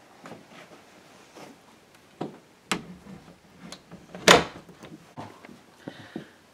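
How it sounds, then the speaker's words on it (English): An indoor door at the end of a hallway swings shut, a sharp knock near the middle standing out among several softer taps, thumps and handling noises, with no talk. "we'll close this door as well"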